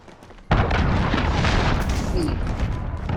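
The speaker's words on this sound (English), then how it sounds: "Enemy cruise missile incoming." A cruise missile explodes in Call of Duty Modern Warfare 2 multiplayer: a sudden loud blast opens into a sustained, rumbling roar that carries on to the end.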